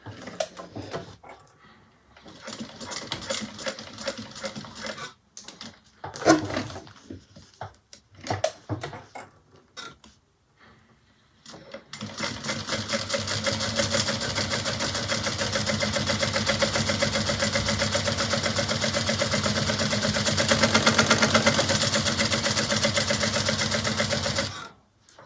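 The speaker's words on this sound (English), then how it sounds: "All right, so we're gonna top stitch." A sewing machine top stitches a bag, starting in short stuttering bursts with gaps, then running in one long steady whirring stretch before stopping.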